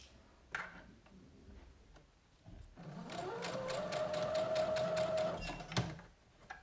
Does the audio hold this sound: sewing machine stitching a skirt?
yes